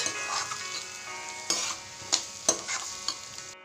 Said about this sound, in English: I'm going to stir this well and let it fry for about 4 minutes